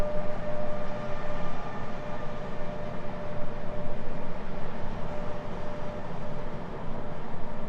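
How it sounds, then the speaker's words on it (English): Truck rumbling past outside, a steady broadband roar that stays loud and constant throughout with no talk over it. "Sorry about the truck noise."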